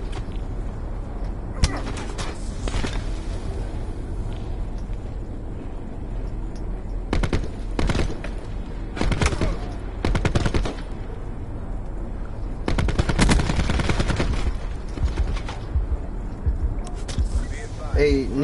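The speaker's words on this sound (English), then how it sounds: "There's a guy shooting at me." Bursts of gunfire from a PS4 shooter game crackle in clusters across the clip, with rapid volleys and sporadic single shots mixed with game ambience and a talking player.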